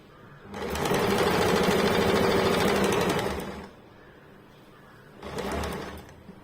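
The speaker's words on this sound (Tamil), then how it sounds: "இப்படி உள்ளார வச்சு நம்ம தச்சிடறோம்." A sewing machine stitches a tucked-in seam on a blouse, running in a loud, close, steady whir for about three seconds, pausing, then firing a second short burst.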